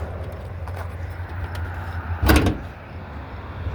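A single sharp clunk of the hood release lever being pulled inside a Toyota Highlander, a brief mechanical thud over a low, steady background.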